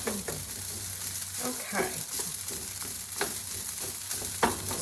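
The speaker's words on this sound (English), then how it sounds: "Now, fried rice, do you hear it?" Fried rice seasoned with soy paste sizzles steadily in a hot pan, a continuous close frying hiss broken by stirring scrapes and clatters, with one brief spoken word over it.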